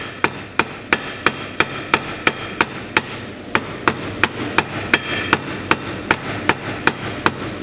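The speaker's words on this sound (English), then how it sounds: "Just keep hitting it till it's down on the handle" A hammer tapping a steel D handle down onto a red spade shaft, about twenty sharp, evenly spaced metallic knocks, close and loud, with no talk.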